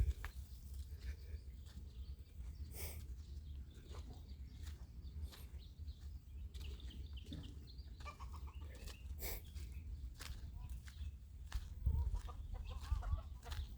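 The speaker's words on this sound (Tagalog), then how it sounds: "yan manok" Chickens cluck on and off at a distance over a steady low rumble of background noise, with scattered short calls throughout.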